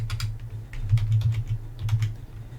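Keys on a computer keyboard are pressed in a quick run of close, crisp clicks with a low hum underneath and no voices.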